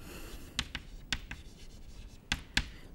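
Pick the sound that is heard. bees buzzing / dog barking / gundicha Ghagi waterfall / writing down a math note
writing down a math note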